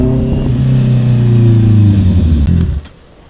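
A superbike engine revs hard and close, its pitch climbing through a strong throttle blip before dropping away quickly to a low idle.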